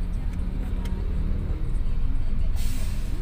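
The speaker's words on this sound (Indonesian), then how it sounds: "Jalanan macet guys, Pondok Indah." Traffic jam on a street in Pondok Indah, Jakarta, with a steady low rumble of idling cars, buses and trucks close by and a brief hiss of an air brake near the end.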